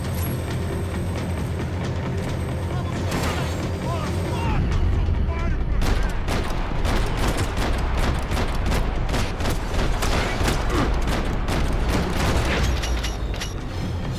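Gunfire in Max Payne 3 starts with a few isolated shots, then erupts into dense, rapid bursts and heavy booming volleys that stay loud and continuous nearly to the end, with a voice speaking at times beneath.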